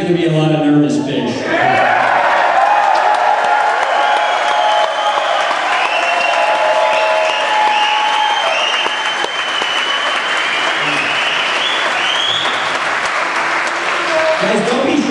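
A large rally crowd at a Boston Tea Party political event bursts into loud, sustained applause and cheering, with whoops and shouts rising over dense clapping for many seconds before a voice returns.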